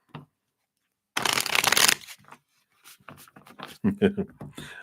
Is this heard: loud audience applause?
no